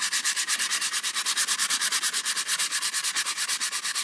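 Rough sandpaper rubbed rhythmically over a Nerf Mega Magnus toy gun, a loud close scratchy back-and-forth rasp repeating in steady quick strokes with no talk.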